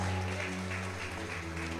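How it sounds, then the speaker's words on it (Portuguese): Congregation clapping during a prophetic church service, a short stretch of steady applause layered over sustained low musical tones from instruments playing underneath. "Aplauda o Espírito de Deus."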